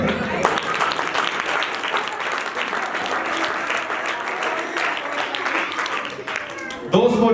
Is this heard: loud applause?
yes